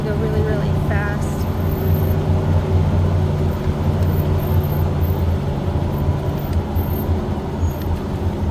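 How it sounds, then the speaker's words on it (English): A safari vehicle rolls downhill with the driver riding the brakes, a loud continuous low rumble and droning hum that persists throughout, with voices talking over it. "we're going downhill. That's why it sounds like this, because he's riding the brakes right now."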